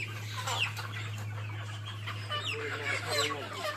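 Chickens and roosters cluck and squawk repeatedly at a poultry sale, several birds calling close by over a steady low hum.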